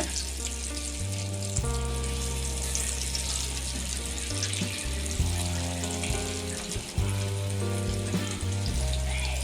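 Kabul chickpea vadas fry in hot oil with a steady, dense sizzle, close and continuous, with faint clinks as a spoon turns them.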